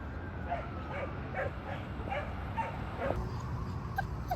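A dog, likely Olaf, whines and yips in a repeated run of short high cries at a dog park, fairly close over steady low outdoor background rumble.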